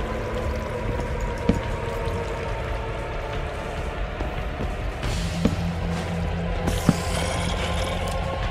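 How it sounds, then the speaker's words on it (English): Steady flowing water in Minecraft, a continuous trickling stream with a few soft clicks and thumps mixed in, moderately close and without talk. "Too much water here."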